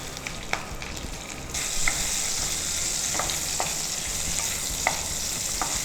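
Baby corn pieces sizzle steadily in hot oil, dropped in one at a time for baby corn manchurian, with a continuous close hiss and a few soft pops and stirring clicks rising above it.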